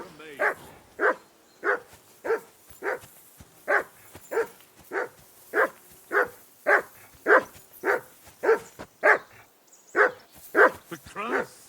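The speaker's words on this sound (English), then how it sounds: "Call off that damn dog before he wolfs down the last of our men" A dog in the medieval game Kingdom Come Deliverance 2 barks in a steady run of about eighteen sharp, evenly spaced barks, close and loud, with voices faintly behind.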